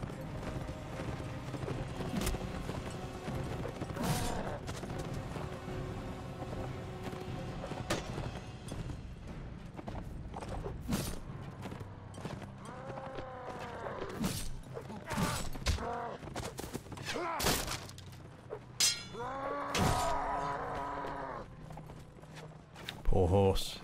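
A horse gallops and clatters through a battle in Warsword Conquest, a Warband mod, hooves thudding under sharp impacts and clashes, with a voice talking over it and a horse whinnying near the end.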